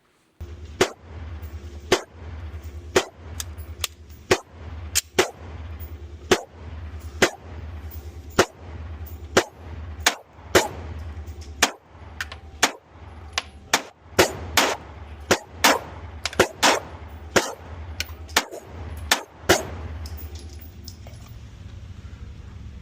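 Gunshots from a ported Gen 6 Glock 45 pistol, about two dozen loud sharp cracks at an even pace that speeds into quicker bursts toward the end, each cut off cleanly with short decays.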